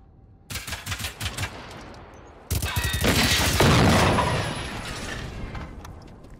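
Video game gunfire rattles in two rapid automatic bursts, the second longer, louder and echoing into a lingering roar, with no speech over it.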